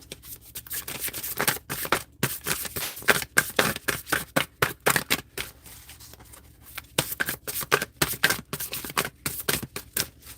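A deck of cards being shuffled again and again, with quick riffling bursts and pauses between them, close up and fairly quiet, with no one talking.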